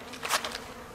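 Honey bees buzzing around a Colorado beehive during an early-spring inspection after winter, a brief close hum swelling and fading within a second over a steady faint drone.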